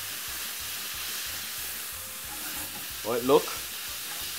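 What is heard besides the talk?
pork stir-frying and sizzling in a pan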